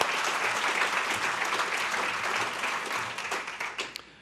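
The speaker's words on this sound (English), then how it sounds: "Let's give them all a round of applause" A room of attendees at a business breakfast applauds in a loud, sustained round of clapping that thins and tapers off near the end.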